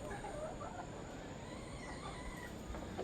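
Kelso and Round Head chickens in a breeding pen on a farm, with faint clucking and calls over a steady background hum, distant and quiet, no talking.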